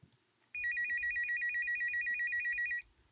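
A reception desk phone rings in the visual novel game Slow Damage, a loud electronic warbling trill that sounds abruptly and runs for about two seconds before cutting off, close and alone.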